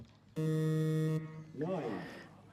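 A loud buzzer sounds for just under a second with a flat, harsh tone at a compound men's archery bronze medal match, then a voice begins talking right after it.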